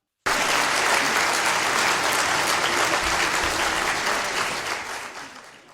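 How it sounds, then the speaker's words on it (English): A burst of crowd applause greets a guest introduced on a podcast. It is loud and dense from the start and tapers off gradually over several seconds. "Everybody give applause for April."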